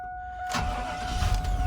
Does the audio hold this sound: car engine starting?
yes